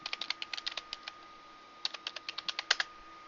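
Quick bursts of keystrokes on a computer keyboard while entering an IRC password, two clusters of crisp clicks separated by a short pause, close and fairly quiet.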